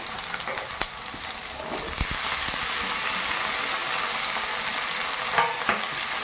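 Bitter gourd and potato pieces fry in hot oil in a pan, giving a steady, close sizzle throughout with a few brief clinks and scrapes, and no voices.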